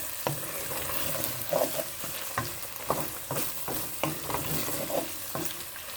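Chili ingredients fry in a pot while a spoon stirs them, giving a continuous close sizzle with irregular scraping knocks against the pot, and no one speaks.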